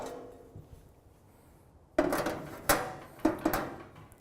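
Metal grill grates set back into a Grillstream Hybrid barbecue, giving several sharp clanks and rattles in quick succession after a quiet opening, close and fairly loud.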